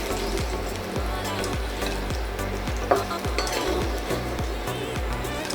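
Potato pieces frying in hot oil in a wok sizzle steadily and closely, with a regular series of scraping stirs and light metallic taps from a ladle against the pan.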